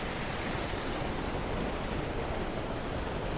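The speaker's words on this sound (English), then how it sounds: "raging river" Rushing water pours out at a South Florida beach, a steady loud broadband roar with no pauses and no voices.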